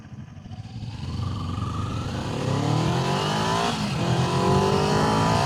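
A Kawasaki Z250 motorcycle engine runs steadily close by, its pitch climbing as it accelerates and revs, with a continuous road roar underneath.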